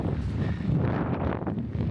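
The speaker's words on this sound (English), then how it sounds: "It's a little bit windy up here." Gusting wind buffets the microphone during a gravel bike race in rural Iowa, a steady, close rumble of wind noise with no other clear sounds.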